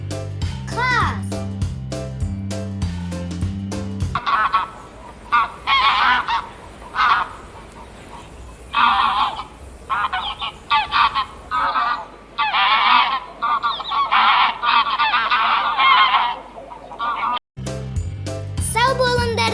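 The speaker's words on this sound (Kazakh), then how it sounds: "Қаз." Repeated goose honks, loud and close, in an irregular run of calls between stretches of music; a voice is heard briefly.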